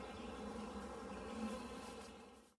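Honey bees buzz steadily around a hive being split, a faint continuous droning hum with layered wingbeat tones, holding even before a sudden cut near the end.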